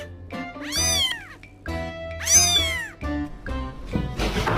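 A pet kitty meows repeatedly and loudly at close range, with drawn-out rising and falling cries coming in two main bursts and then shorter calls.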